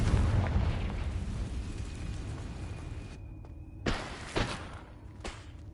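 Confringo explosive spell cast in Hogwarts Legacy: a dense roaring blast that fades out, followed by a few sharp thuds and bursts.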